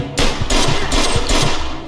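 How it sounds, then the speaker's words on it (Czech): Rapid bursts of gunfire in the video game Mafia 2 crack out in quick succession, loud and close, with short gaps between the volleys. "kdo střílí?"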